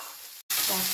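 Radish greens drop into a hot pan of fried garlic, and a sharp sizzle bursts up after a brief silent gap, loud and steady.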